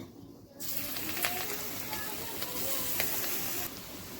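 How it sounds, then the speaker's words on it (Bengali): Jackfruit kofta balls fry in hot oil with a dense, steady sizzle that swells in abruptly and holds close and bright, with faint crackles on top. "একদম হালকা স্টিমে আমি ভেজে নিচ্ছি"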